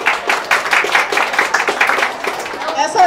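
An audience at a Hogwarts Library book box launch event claps for a Ravenclaw fan, a brief burst of close, rhythmic applause with voices over it.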